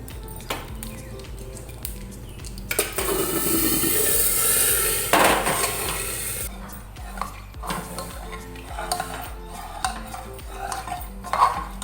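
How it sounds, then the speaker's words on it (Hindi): Spices crackle and sizzle in a hot pan as lentils are tempered, with a metal spoon clinking and stirring against the cookware in bursts. "पहले दाल में तड़का दे दूँ"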